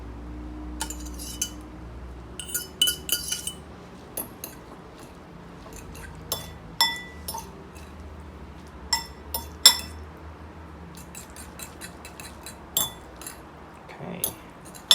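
Utensils clink and scrape against a bowl or plate while dry Indomie Mie Goreng noodles are tossed together, a steady run of sharp metallic ticks and clatters at close range, with no talking.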